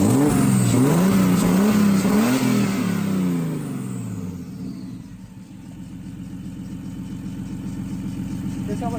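A BMW E36 drag car fitted with a large turbo revs hard close by, its engine climbing and falling in several surging sweeps before settling into a lower, rumbling idle.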